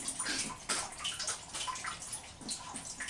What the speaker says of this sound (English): Just going through the the wash cycle, see if the motor's running.